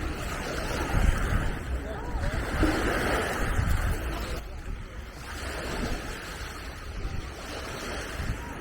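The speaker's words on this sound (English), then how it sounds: "Waves are kind of loud." Loud ocean waves breaking on a shore, a rolling, surging wash that swells and recedes in repeated cycles, with a voice talking over it.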